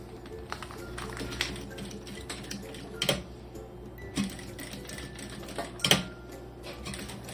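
Domestic sewing machine stitching around the edge of a mini backpack keychain, quick rattling needle runs broken by short pauses, with a few louder clunks as the fabric is turned.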